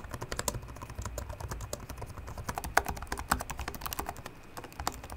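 Rapid, crisp keystrokes on the clicky keyboard of a Lenovo Legion Slim 7 laptop, a steady flurry of sharp clicks heard up close without pause for about five seconds.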